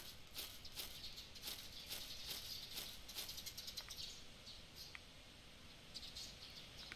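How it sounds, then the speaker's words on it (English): Birdsong in the video game Cineris Somnia: a flurry of quick, high chirps and tweets repeating through the first half, thinning to sparse calls later over a soft ambient bed. "there are definitely birds here"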